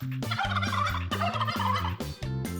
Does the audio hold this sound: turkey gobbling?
yes